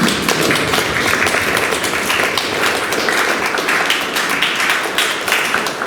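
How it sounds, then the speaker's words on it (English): Loud, dense applause from an audience at an arts venue fills the whole stretch as a continuous close wash of many hands with no gaps. "a round of applause to every single person who stayed and listened."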